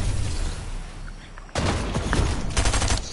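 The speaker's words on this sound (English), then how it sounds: "I got a few shots at him" Gunfire in the video game Fortnite, a dense burst of rapid shots that starts abruptly halfway through after a quieter stretch of game ambience, loud and close with several sharper cracks near the end.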